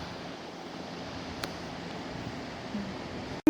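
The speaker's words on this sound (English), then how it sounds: "That river sounds pretty powerful." A powerful river rushes near old mill tunnels at Harpers Ferry, a steady broadband roar with no breaks, close and fairly loud, with one brief knock near the end.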